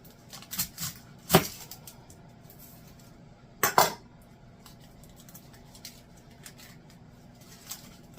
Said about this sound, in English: we're going to cut us up an onion.